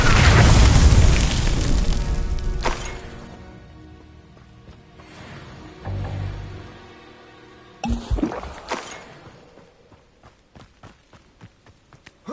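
Confringo blasting spell exploding in a wizard video game, opening with a heavy booming blast that rumbles and decays, followed by lighter thuds, clatters and footstep-like knocks.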